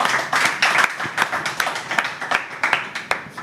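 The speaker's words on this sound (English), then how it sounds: "round of applause" Small audience clapping at an evening community talk show, a burst of scattered, uneven claps close by that rises and thins over a few seconds with no voices.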